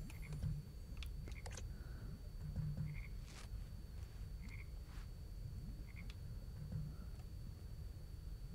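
Frogs croak in the video game Her Majesty's Spiffing, with short, faint, repeated croaks scattered at irregular intervals over a soft low background hum.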